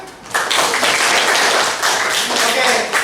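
An audience at a teacher training session held by the Surakarta city education office bursts into loud, sustained group applause close by, lasting about three seconds with voices mixed in.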